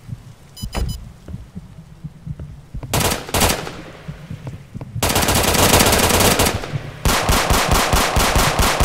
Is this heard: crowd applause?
no